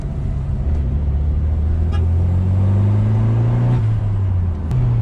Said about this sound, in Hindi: अवंती भी मैं पहली बार चला रहा हूँ